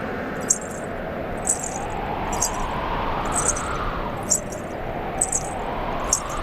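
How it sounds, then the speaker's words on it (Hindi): Small anklet bells (payal) jingle in short bright bursts roughly once a second, a rhythmic chime like someone walking, over a steady wash of background ambience. "ये किसके पायल की ध्वनि है?"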